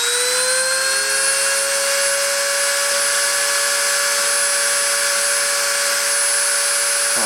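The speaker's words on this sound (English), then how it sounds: "I'm going to turn the spindle on and start the deposition" A deposition machine's spindle runs steadily, a loud close whine with high tonal harmonics that rise slightly as it settles into a constant pitch, holding unbroken for several seconds with no talk.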